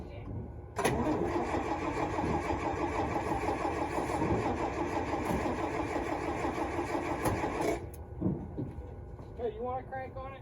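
A firewood truck's engine cranks loudly and steadily for about seven seconds up close, then cuts off. Voices talk near the truck.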